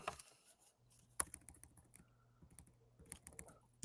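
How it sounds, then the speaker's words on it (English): Keys tapping on a computer keyboard while a place name is entered into a local search, a short run of quiet, irregular clicks over a low steady hum, with no talking. "Let me type in Bellevue."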